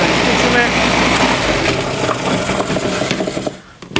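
A Gorenje SBR1000BE centrifugal juicer grinds carrots with a loud, harsh whirring and irregular knocking and rattling, running continuously before cutting out near the end; a voice talks over it.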